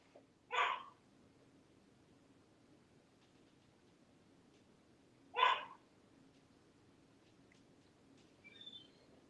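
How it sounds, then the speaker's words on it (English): A dog barking indoors, two short single barks several seconds apart, moderately close against a quiet background. "he's barking at"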